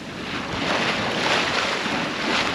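A sailboat running through open ocean swells at about six knots, with steady broadband rush of water along the hull and waves mixed with wind buffeting the microphone, continuous and fairly loud with no talking.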